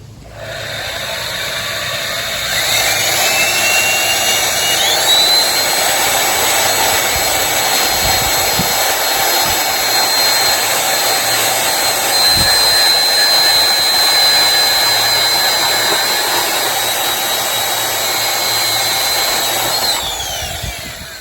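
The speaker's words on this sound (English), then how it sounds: "Best tool for cutting a complex extruded aluminum shape. This is handheld bandsaw" A handheld bandsaw cuts through a complex extruded aluminum balcony railing profile, a loud, steady motor whine with a thin high tone that spins up, holds evenly for about twenty seconds, then winds down.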